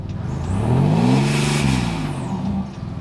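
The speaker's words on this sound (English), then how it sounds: "Rev it up." A Ford Ranger NextGen engine revs up and falls back through a 4-inch DPF exhaust, one loud sustained rise and fall that swells for about a second and settles into a steady idle-like drone.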